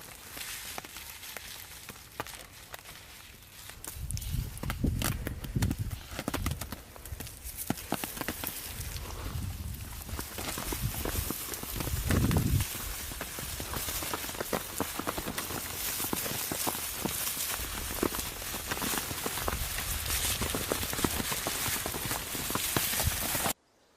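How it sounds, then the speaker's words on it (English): Olives drop sporadically onto tarps spread beneath olive trees, making a steady, dense pattering like rainfall that runs on and on without a voice. "As all the olives hit the tarp sporadically, they make this sound that's just like rainfall."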